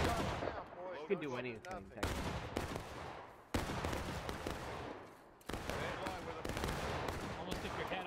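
Musket volleys crack repeatedly in the Civil War game War of Rights, several loud sharp shots in irregular bursts with echoing tails, while players talk over the gunfire.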